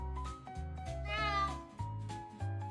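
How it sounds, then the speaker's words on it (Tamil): A cat, the lazy village cat of a children's story, gives a series of drawn-out, wavering meows, loud and close, with one longer, quivering cry in the middle and no talking. "ஒரு கிராமத்தில் மிகவும் சோம்பேறி பூனை ஒன்று வசித்து வந்தது."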